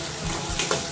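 Tomatoes dropped into a pan of frying onion and garlic in a home kitchen, a short burst of sizzle and wet stirring, close and moderately loud.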